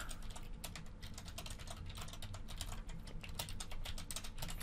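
A username is typed on a computer keyboard in quick, continuous close-up clatter, dense keystrokes pattering throughout with no talking.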